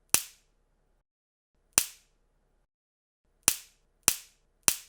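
Five sharp, dry snaps of a stick breaking, sounding close and crisp. Each crack dies out quickly, and the snaps come at irregular gaps with silence in between.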